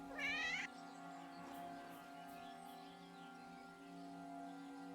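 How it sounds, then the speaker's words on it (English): A cat meows once in the video game Kingdom Come: Deliverance II, a short, loud, rising cry in the first half-second, then steady in-game ambience and a droning background tone carry on without it. "A kitty! Look at the kitty!"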